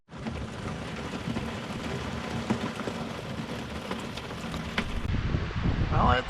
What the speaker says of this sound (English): And not only is it raining, but these winds are really starting to moan.